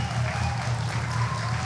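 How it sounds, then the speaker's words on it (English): A brief burst of steady audience applause welcoming Mr. Hayakawa at an NJFC gathering, with a low voice murmuring beneath the clapping. "Let's give him a warm round of applause."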